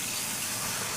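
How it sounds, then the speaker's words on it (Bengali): Water pours into a pan of cooking spicy flat beans, making a steady, close gushing splash that lasts about a second without any voice. "এবার দিয়ে দেবো জল।"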